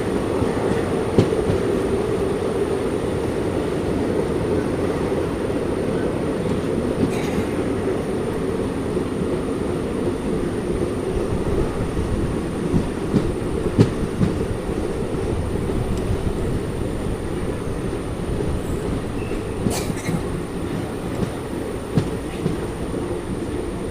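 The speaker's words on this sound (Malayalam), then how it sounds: "ട്രെയിനിപ്പം നല്ല സ്പീഡിലാണ് പോയിക്കൊണ്ടിരിക്കുന്നത്." Thiruvananthapuram Central Express running at speed along the Kerala coastal line, a continuous loud roar of wheels and carriage rumble with faint rhythmic clatter and occasional squeals, no voices, steady throughout.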